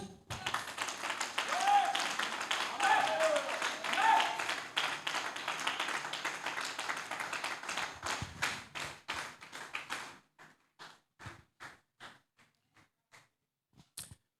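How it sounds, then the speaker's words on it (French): A church congregation claps hands in acclamation at a revival service, with dense, continuous clapping that thins into scattered, separate claps and occasional hits toward the end. "Une main d'acclamation."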